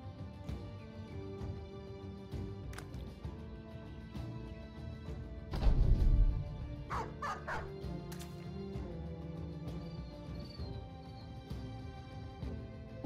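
A dog barking in the Battle Brothers video game: a loud burst of barks mid-clip followed by a few sharper yips, amid layered battle sound effects and ambient game noise.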